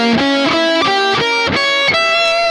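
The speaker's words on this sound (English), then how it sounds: "So what you can get away with is doing this like symmetrical diminished scale" An electric guitar with distortion runs a symmetrical diminished scale, each picked note stepping upward in a steady, evenly spaced sequence, loud and close.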